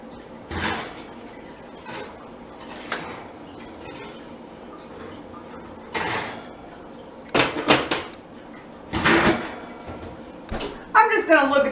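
A shortbread chocolate pie is taken out of the oven in a home kitchen, with scattered clanks of the oven door, rack and pan, metallic rattles and clatter spread across the stretch, while a person talks intermittently.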